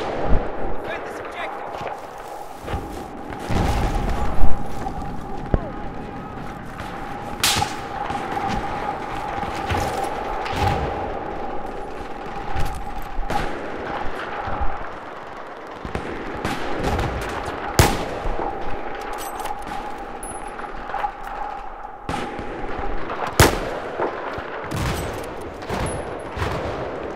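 Video game combat with machine gun fire and explosions: dense, continuous bursts of gunfire and booming blasts throughout, with a steady tone underneath, loud and close, while a player talks over them.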